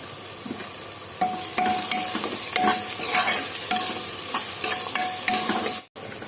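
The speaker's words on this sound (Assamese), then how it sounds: "এতিয়া পিঁয়াজখিনি ভজা প্ৰায় হৈ গৈছে।" Onions frying with ginger-garlic paste and turmeric sizzle steadily in a pan, while a spatula scrapes and stirs in repeated strokes. Near the end the sound cuts out briefly.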